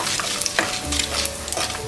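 Mustard seeds, fenugreek and asafoetida splutter and crackle in hot sesame oil for a village-style mango drumstick kuzhambu, a steady close frying hiss dotted with small pops and no talk.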